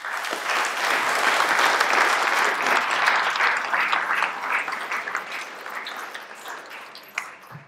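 Loud, dense audience applause for a blues musician fills the room, holding strong and then easing off slightly, with a single sharp knock near the end.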